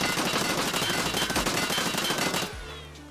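A heavy G36 rifle in Escape From Tarkov fires a loud, rapid full-auto burst of closely spaced shots for about two and a half seconds. The firing then cuts off into a short echoing tail.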